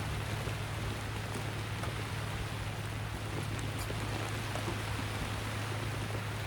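Rain falls during a fishing outing, making a steady, even hiss throughout along with a low constant hum. There is no talking.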